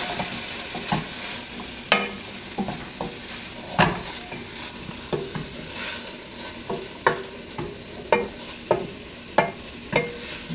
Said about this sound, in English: I'm going to put in my lentils, and I'm going to stir them around.